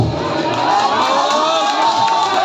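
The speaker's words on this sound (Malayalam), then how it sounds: "അവർ കൈയടിക്കുന്നു അവരുടെ ടീമിന് വേണ്ടി" A match crowd cheers and shouts for their team, with high children's voices prominent, a loud, dense, continuous roar of cheering close to the listener.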